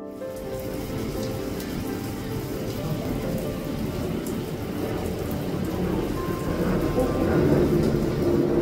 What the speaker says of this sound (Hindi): बारिश हो रही है, काफ़ी अच्छा वेदर रहा